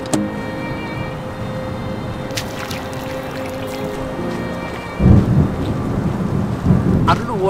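Rain falls steadily on a foggy beach while thunder rumbles low and heavy, with a louder roll building near the end.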